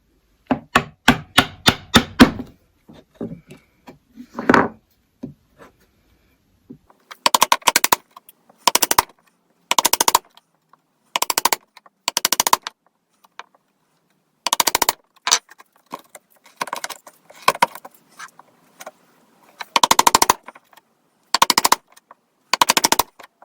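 Hand-chopping a mortise with a chisel and mallet: a rapid burst of sharp strikes, then spaced pairs and clusters of hard woody knocks with short silences between, close and loud.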